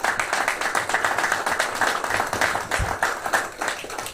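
A crowd claps for the 2024 Millville Football leadership team in a pulsing, rhythmic wave of applause, loud and close for a few seconds.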